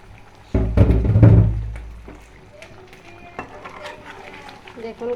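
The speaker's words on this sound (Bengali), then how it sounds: "এই যে গরম পানি কড়াইতে দিয়ে দিচ্ছি, যে কড়াইতে মাছ ভাজছি সেই কড়াই" Hot water goes into a hot frying pan where fish has been frying, giving a loud, abrupt rush and hiss that fades over about a second, followed by quieter pan clatter with a voice talking.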